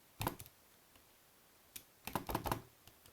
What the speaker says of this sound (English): That's what you would type into your calculator in Desmos.